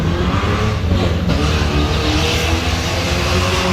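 A Toyota Supra's engine revs nearby, a loud, steady roar that rises and falls with throttle, holding strong throughout with no break.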